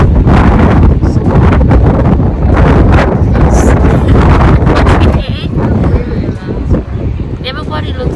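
Strong outdoor wind buffets the microphone in a steady, heavy rumble and roar that hardly lets up, while people talk underneath.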